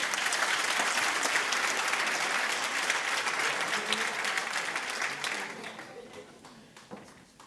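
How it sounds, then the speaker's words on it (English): Crowd applause at an agricultural awards gala ceremony, a thick, sustained clapping from a large audience that holds steady, then tapers off into a few scattered claps and quiet room noise. "A round of applause for Brayton, please"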